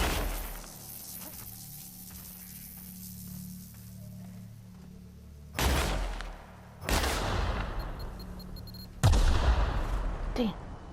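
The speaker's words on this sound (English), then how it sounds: "low-key just shooting at stuff right now" Gunfire in The Outer Worlds comes as three loud, close bursts late in the clip, each breaking over a quiet humming game backdrop.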